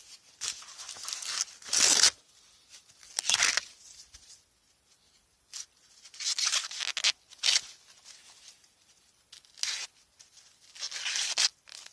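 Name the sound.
peeling the husk off a sweetcorn cob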